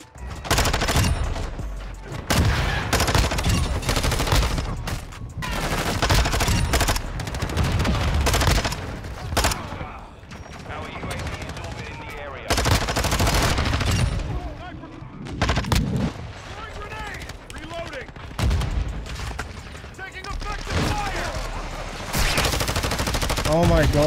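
Rapid gunfire from a 74U rifle in the video game Modern Warfare 2, dense repeated bursts throughout with brief gaps between, loud and close amid other gunfire and occasional booms.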